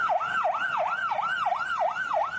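An ambulance siren wails in a steady, rapid up-and-down cycle, repeating about every third of a second, loud and continuous with faint road noise underneath.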